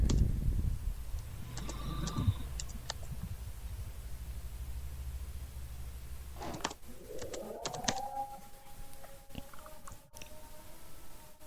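Close keystrokes click on a computer keyboard while a search term is typed into Visual Studio Code: a short burst of typing, then quiet room tone with a few scattered clicks and a faint electronic tone.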